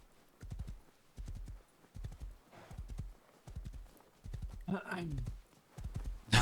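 Horse hooves clip-clop in a video game with a steady repeating gallop rhythm of thuds, fairly close, and one brief neigh partway through; faint talk sits underneath.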